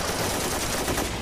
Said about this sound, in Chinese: 苏军士兵迅速架好机枪，趁对方没有发现他们果断发动袭击